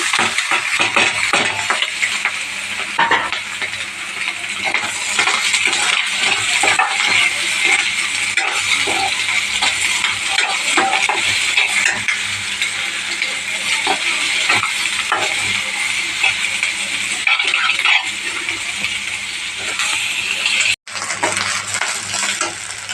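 Tomatoes, carrots, green chillies and curry leaves sizzle and fry in a pan for egg Maggi, with steady stirring and occasional spoon scrapes and clinks against the pan, close and continuous without talk.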